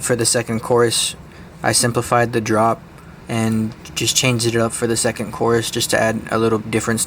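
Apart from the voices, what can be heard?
No everyday noise stands out behind the speech.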